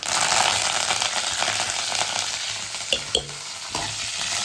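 Four dried red chillies fry in hot oil for a Bangalore-style sambar, giving a steady, close sizzle with faint stirring scrapes and a few sharp pops near the end.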